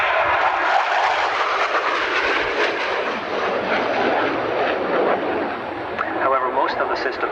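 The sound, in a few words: military jet aircraft flying at an airshow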